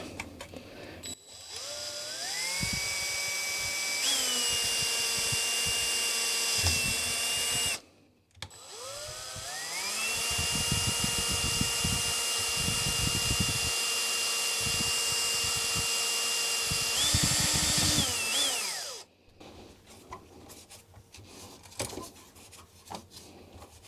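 A power drill bores through a plastic computer case being built for a 2001 retro Mini-ITX computer. Two long, loud bursts of rising whine settle into steady grinding, separated by a brief pause, with quieter handling noise afterward.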